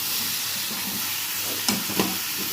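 Lote fish dropped into spiced oil masala, a steady sizzling hiss with a couple of sharp bursts near the end as the fish hits the pan.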